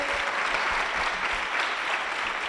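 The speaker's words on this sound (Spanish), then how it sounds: "Un aplauso" Steady, dense applause from an audience at a Madrid tech bootcamp project showcase, a continuous wash of clapping filling the whole stretch at an even level with no talk over it.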